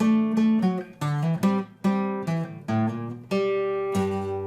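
Acoustic guitar plays the licks from a song's interlude: a series of plucked notes and short strummed chords in a steady, unhurried rhythm, close and clear, with no talking.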